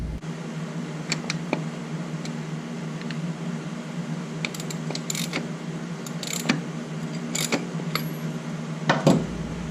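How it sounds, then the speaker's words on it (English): Metallic clicks, ratchets and small mechanical taps from the engine of a BMW G310R motorcycle as its crank is turned slowly by hand during a starter clutch replacement, with intermittent sharp ticks over a steady low hum. "we'll just turn the crank over a little bit more, and we'll get that lined up"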